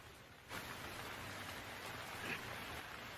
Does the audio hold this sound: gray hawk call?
no